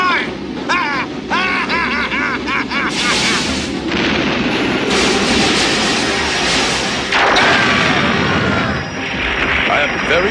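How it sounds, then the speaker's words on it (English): Weapons fire in the Robot Max cartoon as a loud barrage of booming, blasting shots and explosions, with characters shouting over the din. "Fire! And keep shooting till that blubber brain is fried!"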